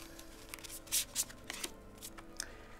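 Tarot cards being shuffled and drawn by hand: soft riffling and sliding of cards in several short, close bursts, with light taps between them.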